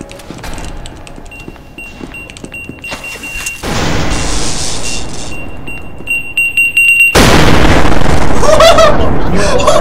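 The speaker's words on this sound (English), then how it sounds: "Watch out, grenade!" A grenade blast in a video game, a loud explosion bursting in mid-way and a second heavy roar of debris and noise that stays loud to the end, with electronic tones and scattered pops before it.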